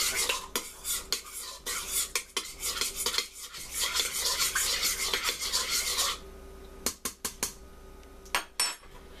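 Spoon stirring sugar into a yeast mixture for bun dough, rapid scraping and clinking strokes against a bowl in quick bursts, then a pause and a few sharp taps near the end, no talking.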